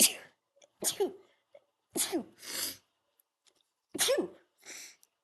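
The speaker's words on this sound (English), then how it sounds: "I'm going to sneeze." Three sharp sneezes, each a sudden loud burst with a short breathy tail, separated by quiet pauses and a few small breaths.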